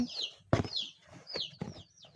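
Two chickens cluck and squawk in short bursts close by, several sharp calls over a steady murmur of clucking.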